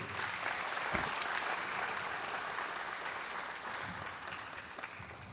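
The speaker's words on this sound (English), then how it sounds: "Another round of applause for him." Sustained audience applause at a KNUST research conference, following a talk by Dr. Mansen; a steady, dense wash of many hands clapping throughout, moderately distant and even in level.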